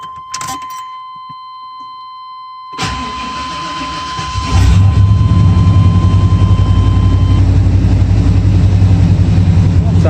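A 1994 Chevy engine, just fitted with a replacement used spark plug after sitting unused for a couple of days. A steady warning chime sounds, then the engine cranks and catches into a loud, rough idle that continues to the end.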